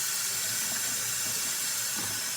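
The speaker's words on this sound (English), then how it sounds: "I'm going to wash the knife." Running kitchen tap water streams steadily as a knife is washed under it, a close, constant splashing rush with no voices.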